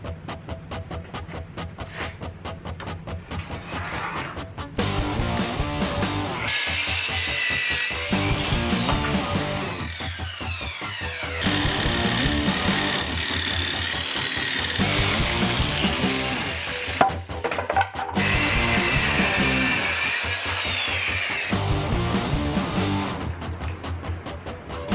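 Jigsaw cutting through leftover plywood, loud buzzing bursts of the blade that start and stop in several passes of a few seconds each, close up, with short pauses between cuts.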